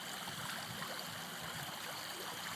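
A river flowing beside the Scuppernong Springs nature trail gives a soft, steady rush of moving water with faint trickles, quiet and continuous.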